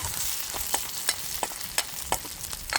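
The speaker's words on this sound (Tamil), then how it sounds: "எல்லாத்தையும் சேர்த்து பொரிப்பேன்." Dried chillies, fennel and garlic fry in hot oil in a pan, giving a steady sizzling hiss broken by sharp, irregular crackles and pops. The sound is close and continuous, with no talking.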